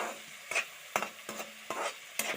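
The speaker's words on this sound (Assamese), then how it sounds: "এতিয়া এনেদৰে অকণমান সময় লৰাই থাকিম" Egg curry masala with salt and turmeric is stirred in a pan: a spoon scrapes sharply every half second or so over a soft, low sizzle, close by and with no voices.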